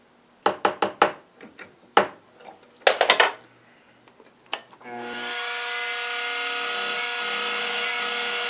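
A split point drill drilling metal on a metalworking lathe: a few sharp metallic clanks and taps of tooling come first, then the motor spins up into a steady, loud humming whine that holds to the end, with no talking.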